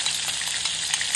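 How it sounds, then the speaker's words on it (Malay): Onion and chili fry in hot oil in a wok for a sardine dish, a loud, steady, close sizzle with crackling spatter throughout. "Dan panaskan minyak. Masukkan bawang dan juga cili."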